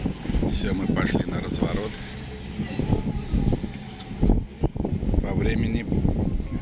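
Wind buffets the microphone aboard a Moskva excursion boat cruising the Volga at Samara, a rough, low roar that runs throughout beneath people talking.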